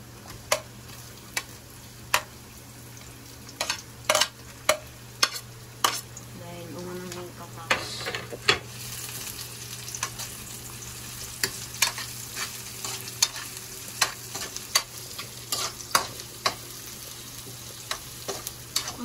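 Onion sizzles in a pan while cooking for corned beef, with frequent sharp scrapes and taps of a utensil stirring it over a steady low frying hiss and hum.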